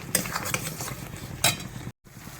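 Yogurt is stirred into a paneer curry in a pan: close spoon scrapes and clinks against the pan over a low sizzle, with two brief louder knocks and a short drop to silence near the end.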